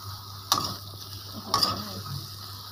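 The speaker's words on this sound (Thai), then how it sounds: "นี่คือการผัดผัดไส้กรอกค่ะ" A large sausage stir-fried in a pan, with two sharp scraping clatters of the utensil against the pan over a low steady sizzle and background hum.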